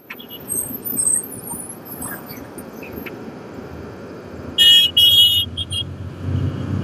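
Steady road traffic rumble heard from inside a moving vehicle near a bus stand, with a loud horn toot partway through and other vehicles passing close by.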